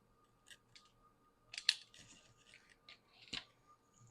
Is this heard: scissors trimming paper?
yes